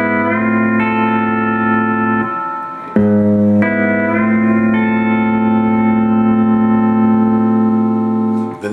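A pedal steel guitar plays a sustained phrase of bright, ringing chords with slides and pedal bends, one brief break in the middle, loud and close with a reverberant tone.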